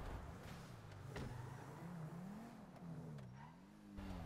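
A car in GTA 5 Online drives with a steady engine drone that rises and falls in pitch as it accelerates and shifts, with occasional sharp clicks, moderately quiet and without talking.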